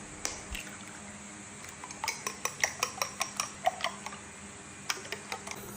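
Four eggs being beaten in a bowl for soup: a quick, steady run of light clinking taps from the utensil striking the bowl, close and fairly soft, with no talking.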